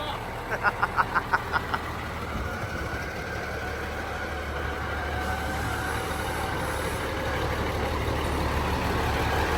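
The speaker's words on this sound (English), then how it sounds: "driving the Peterbilt Cabover in the shop here for us to tinker with it" A 1978 Peterbilt cabover truck drives inside a shop with a steady engine rumble building slightly louder, after a short series of rhythmic beeps near the start, with people talking over it.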